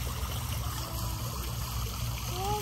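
Water trickles and dribbles in an outdoor park fountain, a steady soft running sound throughout, with children's voices and an adult talking over it.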